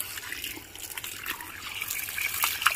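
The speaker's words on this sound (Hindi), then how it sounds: "पानी फुल प्रेशर से है" Water from a supply pipe runs at full pressure in a steady, hissing gush that stays loud and continuous throughout, with no voices.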